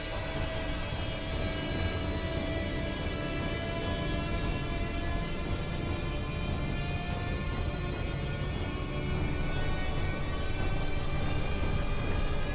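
A steady, loud drone of an airplane in flight fills a film scene, a constant engine roar with faint tonal whine and no talking.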